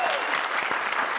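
A studio audience on a doctors' TV talk show claps in a short, dense burst that fills the room, with a faint voice briefly underneath.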